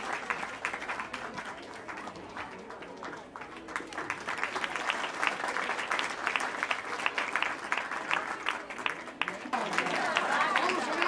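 Applause from an audience at the Gangasagar Mela 2024 service award ceremony for Kolkata Sahu Samaj, steady and fairly distant, swelling louder toward the end.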